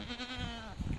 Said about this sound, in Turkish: Böyle keçiler,